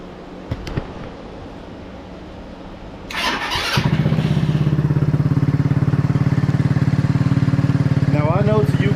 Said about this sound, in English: So let's crank the bike up and show you that real quick.